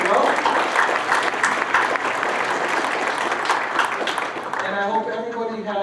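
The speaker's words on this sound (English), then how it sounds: "let's give them a round of applause as well" An audience at a business gathering gives a hearty round of applause for the staff, a loud, dense burst of many hands clapping that fades as a voice begins speaking at the end.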